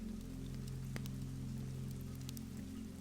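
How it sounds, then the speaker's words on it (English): Rain falling on slate roofs, a steady soft patter spread evenly throughout, faint and continuous beneath a low hum, with occasional slightly sharper drop taps. "The rain had been falling all night."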